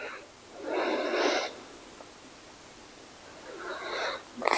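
Slow, deep breaths are drawn in and released during a yoga pose, with two soft breathy airflows separated by quiet stillness, close to the microphone.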